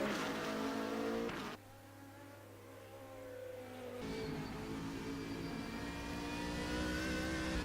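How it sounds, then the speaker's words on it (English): A BMW GT3 race car in rFactor 2 at Laguna Seca, its engine droning with steady harmonic pitch, briefly lifting off and then building again as it accelerates, continuous and fairly close. "I love that sound of the BMW"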